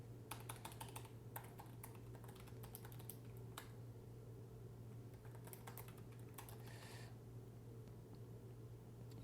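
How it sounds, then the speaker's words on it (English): Steady run of keyboard typing, key clicks in quick irregular bursts with brief pauses, fairly faint against a constant low electrical hum, no voices. "I'm gonna type"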